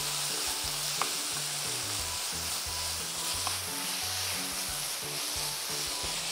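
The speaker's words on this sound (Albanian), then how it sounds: "zakonisht I përzim me lugë drunit, shkaku që me rujt edhe" Minced meat for lasagne bolognese sizzling steadily in a frying pan while a wooden spoon stirs it, giving a continuous close hiss broken by soft scraping and knocking strokes, with no voices.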